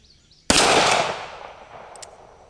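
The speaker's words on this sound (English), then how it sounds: "So let's just shoot a little bit here and see what we get." A single sharp, loud shot from a Smith & Wesson Model 36 revolver with a short barrel is heard close by, its blast decaying over about a second, followed by two faint clicks.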